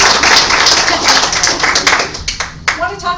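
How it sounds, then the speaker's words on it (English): An audience claps for Katie at a history museum brown bag talk in Steamboat Springs, with dense applause that thins into scattered claps while voices chatter underneath. "So just a huge round of applause for Katie."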